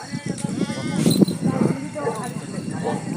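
Several goats bleat from a herd at a religious fair, their calls overlapping with people talking nearby.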